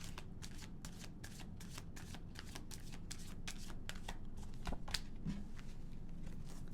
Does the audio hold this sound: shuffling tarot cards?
yes